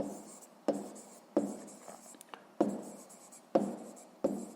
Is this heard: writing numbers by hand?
yes